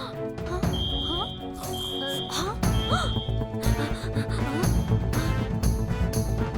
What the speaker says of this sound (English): At the road worker's office, an alarm rings